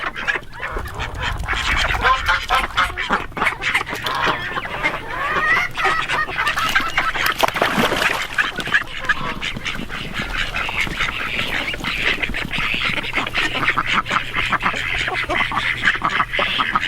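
Ducks quack and chickens cluck continuously in a coop, a busy overlapping chorus of fowl calls with some honking, near and fairly loud throughout.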